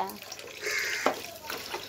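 Tap water running into a metal vessel during dishwashing: a brief splashing gush that swells in the middle, close and loud, with voices talking around it.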